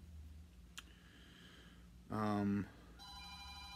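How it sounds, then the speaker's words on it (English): A telephone rings in a short electronic burst of stacked tones, clear and fairly close, after a faint click; a second quieter ring starts near the end, with no talk over it. "Oops, the phone's ringing."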